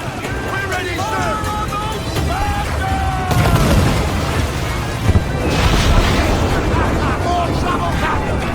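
Naval battle in Assassin's Creed Black Flag, with loud booming cannon fire and explosions at sea rumbling continuously over roaring water and wind, with shouting voices and crew chatter mixed in.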